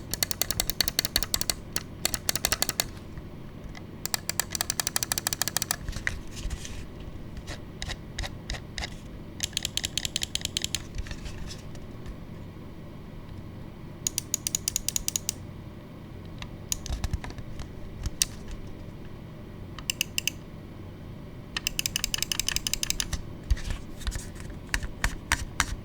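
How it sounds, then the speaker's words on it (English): Mouse clicks from a Phylina S450 gaming mouse, sharp rapid click bursts in quick runs and single taps, alternating with pauses and a soft lower rattle, close and fairly loud with no talking. "let's drop a click and quality sound test"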